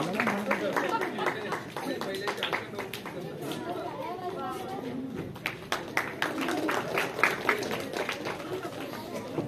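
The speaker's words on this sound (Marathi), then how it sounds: "जोरदार जोरदार टाळ्या झाल्या पाहिजेत." A crowd claps for the second-place school at a science one-act play competition prize ceremony, scattered applause mixed with loud chatter and talking voices throughout.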